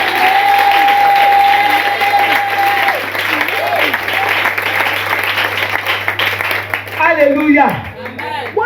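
A church congregation applauds and cheers in a sustained wash of clapping, with a voice speaking loudly over it and rising toward the end.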